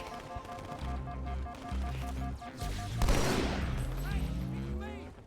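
Rapid gunfire bursts from the Halo 2 video game crackle alongside a game's layered music and effects, with a sharp louder volley near the middle.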